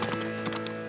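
Cartoon horse hooves gallop in a quick, even clip-clop rhythm, close and clear, across a short burst.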